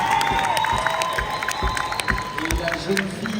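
An audience at a culinary award launch event cheers and claps in a lively, continuous wash of crowd noise, with whoops rising over the applause throughout.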